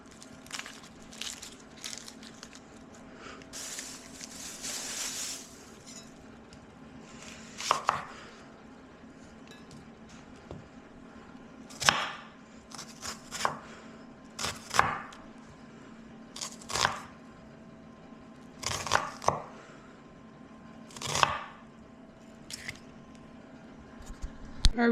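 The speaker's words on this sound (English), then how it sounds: "Alright, we got the red onion all chopped up." A knife chops red onion on a cutting board in sharp, irregular bursts of taps and crunches, spaced by short pauses over a low steady hum, close and clear.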